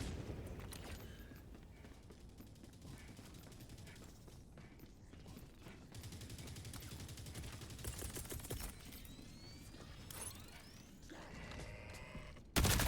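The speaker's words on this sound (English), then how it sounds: "That's a machine gun devastator." A machine gun devastator firing on bots in Helldivers 2, rapid bursts of gunfire and clanking mechanical noise rattling on throughout, with metallic impacts and a loud hit at the very end.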